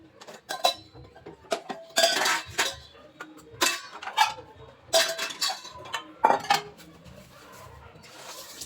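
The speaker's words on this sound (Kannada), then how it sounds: "ಅದಕ್ಕಾಗಿ ಪಾತ್ರೆ ಉಜ್ಜಕ್ಕೆ ಹೋಗ್ತಾ ಇದ್ದೀನಿ" Dishes and pots being scrubbed and handled in a home kitchen sink, with repeated clinks and clatters of utensils and vessels knocking together in irregular bursts, close and moderately loud, no talking.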